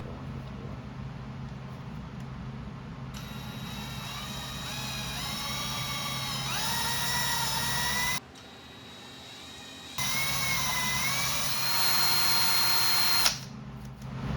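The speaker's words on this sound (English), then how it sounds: "I should probably get my drill and the little rotary thing." A power drill with a rotary mixer paddle churns thick epoxy hardener in a can, a loud close whine that rises and dips with speed changes, stops briefly, then runs again before cutting off.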